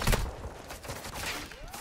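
Gunfire from an enemy bot in the video game DMZ, a quick burst of shots cracking close by with a brief fusillade at the start and scattered softer reports after.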